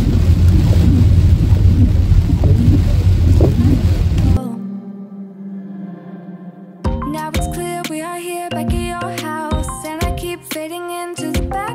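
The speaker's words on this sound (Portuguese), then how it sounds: "está chuva mesmo, está mesmo a chover a sério" Heavy rain drums on a car during a drive on the road, a dense broadband wash filling the first four seconds before stopping, followed by a quieter stretch and then rhythmic tonal music.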